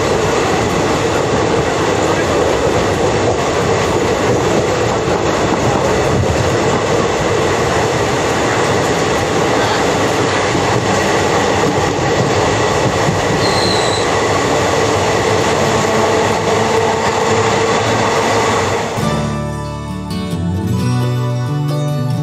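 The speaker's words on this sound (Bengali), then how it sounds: "আর এই ট্রেন ছাড়ে আসানসোল থেকে শিয়ালদার উদ্দেশ্যে" An Asansol–Bardhaman local passenger train runs steadily toward Sealdah, a loud continuous rumble of carriages with wheel squeal and rail noise, heard from on board, before the sound drops away abruptly near the end.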